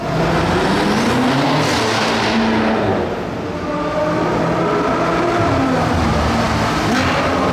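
A McLaren 650S sports car engine roars loudly and continuously, rising and falling in pitch as it revs and moves past nearby in Monaco.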